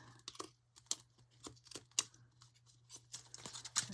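Scissors trimming a glue strip on a homemade Valentine heart craft: a run of crisp, close snips and clicks in uneven bursts, with no talking.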